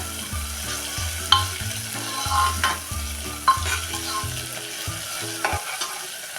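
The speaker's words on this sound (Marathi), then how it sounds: "आता टाकूया त्यामध्ये हे आलं लसूण आलं लसणाची चव आपल्या तेलात चांगली उतरेपर्यंत" Ginger and garlic sautéing in hot oil for matar pulao, a steady close sizzle with rhythmic scraping stirs of a spoon against the pan, no talking.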